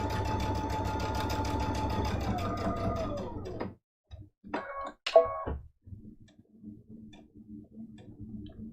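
A sewing machine stitches a scrappy Christmas stocking mug rug: a loud, close, steady whir for several seconds, then stops, followed by a few short clicking bursts and faint handling noises.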